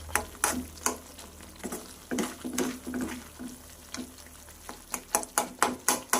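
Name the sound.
stirring melting ghee in a pan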